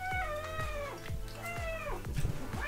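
Several close, drawn-out meows from a cat in a home setting, the wavering calls following one another with short gaps over a faint low hum, fairly clear and unaccompanied by talk.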